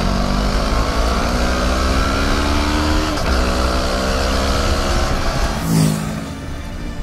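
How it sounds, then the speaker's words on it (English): A Kawasaki Ninja 650 motorcycle engine roars loudly and close as it accelerates with the throttle pinned, the pitch climbing through gear changes, with no talking over it. "the new Ninja 650 sounds rowdier than ever"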